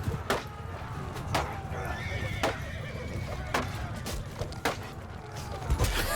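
A horse in the video game Mount & Blade II Bannerlord whinnies loudly amid hoof clops and scattered sharp impacts, with someone talking over the scene.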